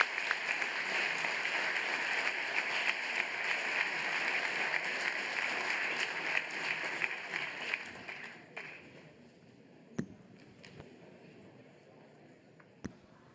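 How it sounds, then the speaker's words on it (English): A conference audience at a panel on the future of trade applauds steadily for about eight seconds, a dense, even wash of clapping that then thins out and fades, leaving a few isolated claps. "This is your applause."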